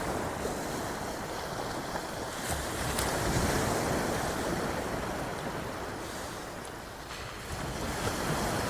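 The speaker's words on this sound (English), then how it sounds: "I feel I want to capture the wave just as it washes in" Waves wash in steadily on Folkestone beach in the early morning, a broad continuous surf roar with gentle swells, wind buffeting the microphone throughout and no voices.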